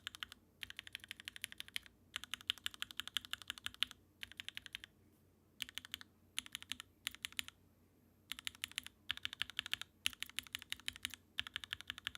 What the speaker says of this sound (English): see how the keycaps sound on the Forever